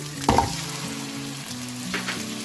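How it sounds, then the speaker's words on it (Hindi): Tomato puree hits a pan of fried garlic-ginger paste and onion with a sharp splash of sizzle, then settles into a soft, steady frying crackle. "लहसुन अदरक भून चुका है, मैं इसमें डाल रही हूँ टमाटर प्यूरी।"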